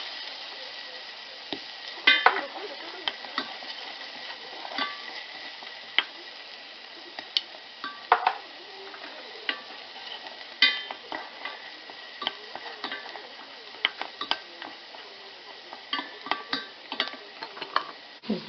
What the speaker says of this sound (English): So gently sauteing in butter.